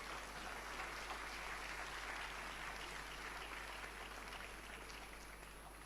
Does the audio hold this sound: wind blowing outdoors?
no